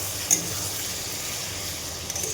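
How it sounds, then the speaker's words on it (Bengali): Ridge gourd stirred into potato masala in a frying pan, a soft continuous sizzle with a couple of light scraping knocks from the spatula, close up and fairly quiet. "একটু ভালো করে নেড়ে চেড়ে ভালো করে কষিয়ে নেব"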